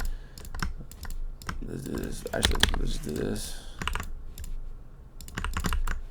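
Rapid keystrokes on a computer keyboard click in clustered bursts throughout, close and fairly crisp, while someone speaks over the middle stretch during a live trading session.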